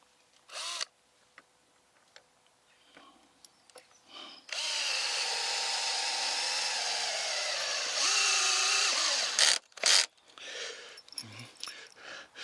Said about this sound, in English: So I'm just putting in some screws.